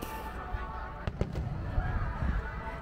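Fireworks at a fireworks festival in Japan go off at a distance, a few sharp cracks and thumps rising over a steady crowd murmur and low rumble, with people talking nearby.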